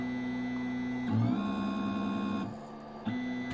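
A DIY pick-and-place machine converted from a 3D printer runs its motors with a steady whine to pick up a medium nozzle tip, the pitch shifting as the head moves, with no talking.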